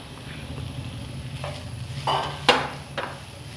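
Chopped plantain pieces stirred into melted sugar in a pan, giving a soft steady sizzle with a few louder scraping stir strokes near the end, close and alone.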